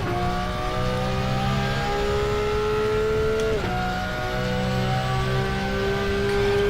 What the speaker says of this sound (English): I just love the sound of this car when we run it up here